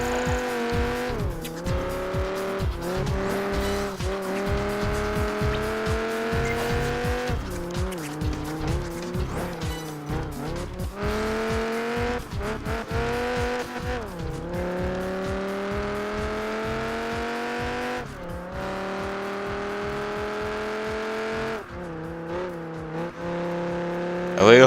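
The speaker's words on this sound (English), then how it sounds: "we're on lap number 2 now in the street race." Racing engines in Project Gotham Racing 4 whine and rise and fall through gear changes during a street race, with tires squealing repeatedly, loud and constant for the whole stretch.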